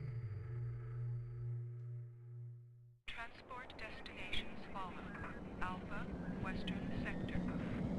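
An aircraft in the Warzone 2100 game starts up with a steady droning hum, then cuts to a louder broad engine roar for takeoff, with radio-style voices speaking over the noise.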